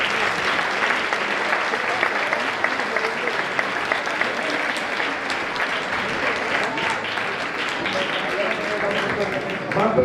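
Audience applause at an Asturian Christmas folk music gathering, a dense, steady clapping that fills the whole stretch at even loudness without letting up.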